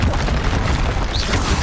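A Confringo blasting spell explodes in Hogwarts Legacy with a loud, sustained booming rumble that fills the short moment, close and heavy with no voice over it.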